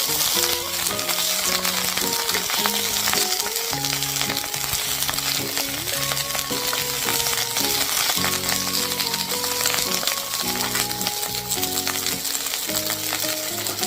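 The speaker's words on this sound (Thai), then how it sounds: "เอากระเจี๊ยบลงไปผัด คลุกเคล้าให้น้ำมัน เคลือบกระเจี๊ยบ" Steady loud sizzling of okra frying in hot oil, with a spatula scraping and stirring in a continuous rhythm, no talking.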